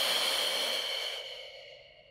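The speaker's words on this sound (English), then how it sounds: "Inhale. Exhale." Slow, audible breath during a Pilates mat workout, a soft airy exhale that tapers into quiet, close and alone with no talk.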